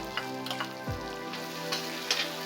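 Tomatoes and chopped green chillies fry in a pan with a steady sizzle and crackle and occasional light stirring taps, close and moderately loud.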